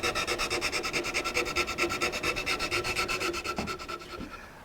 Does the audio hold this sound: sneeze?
no